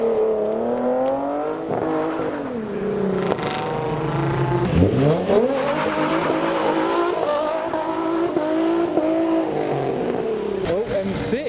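At a track event a BMW M6 rolls up, its engine note rising and falling with revs against a busy backdrop of other cars and squealing tyres, while people talk over it throughout.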